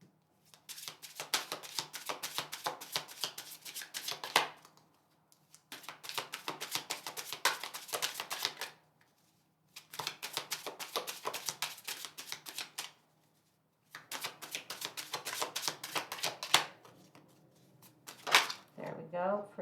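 Tarot cards are shuffled by hand in four bursts of rapid riffling and flicking, each a few seconds long with short pauses between, close and crisp.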